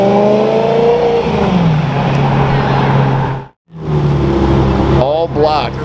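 A 900 hp Novitec Ferrari 488 Pista with HRE wheels and IP exhaust revs loudly nearby, engine note rising and falling, cutting out briefly before roaring again, with people talking over it.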